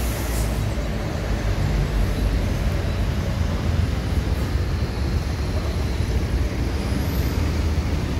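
A Sinar Jaya coach accelerates hard at a busy bus terminal, its engine roar a loud, steady rumble that stays close and continuous throughout.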